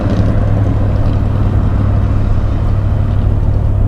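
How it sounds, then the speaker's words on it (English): The engine of a 1976 Chevy Silverado C20 Camper Special heavy-duty pickup pulls away with a loud, steady low drone and rumble. A constant hum is heard from inside the cab, with no talk. "She takes off well considering the weight and lowered performance of the 1976 engines."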